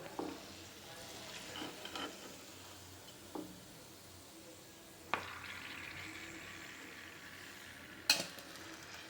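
Fried gulab jamuns drop into sugar syrup, with faint soft stirring, a few quiet clinks of a utensil against the pot and one sharper knock near the end, over a low background hiss.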